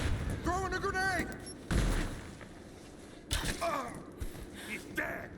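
Gunfire and a grenade blast in the action video game Rise of the Tomb Raider, with sharp bursts of shots and a heavy boom landing amid shouting voices, the loud impacts arriving in clusters between stretches of combat noise.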